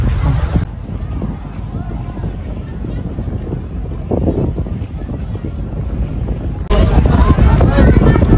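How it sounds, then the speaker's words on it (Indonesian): PELNI passenger ship KM Awu pulling away from Bima port, heard from the open outer deck: a constant low engine rumble under heavy wind buffeting, which grows louder near the end. "Kapal sudah bertolak meninggalkan Pelabuhan Bima"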